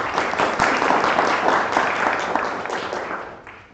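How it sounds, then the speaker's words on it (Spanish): Audience applause at a university security talk, steady clapping from a room full of listeners that fades out toward the end. "Un aplauso."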